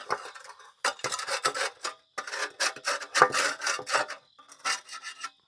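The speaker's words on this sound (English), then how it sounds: "when I reuse them, just scrape just the high points off" Rough rasping scrapes of a tool against hardened concrete buildup on a reusable stepping stone mold, a series of short close strokes with brief pauses between them, no voices.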